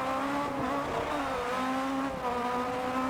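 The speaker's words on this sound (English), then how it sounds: "This Peugeot 207 is kitted out for Rallycross." A Peugeot 207 rallycross car in the racing game Dirt Rally, its tuned engine holding a steady, buzzing drone with slight rises and dips in pitch, loud and continuous.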